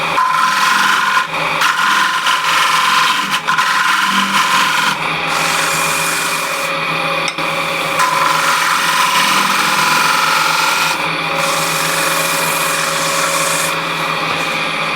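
A wooden apple shape being turned on a lathe gives off a loud, continuous scraping and rubbing hiss as the tool cuts, with brief brighter zipping surges over the steady whir of the spinning wood.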